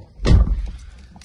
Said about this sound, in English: I'll just shut this door.